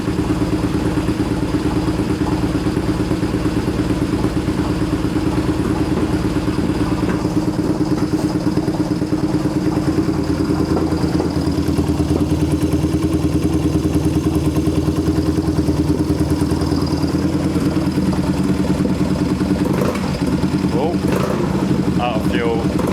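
A Yamaha XS650 motorcycle engine idles steadily and loudly close by through a stainless exhaust, its rumbling exhaust note running continuously with some mechanical clatter near the end.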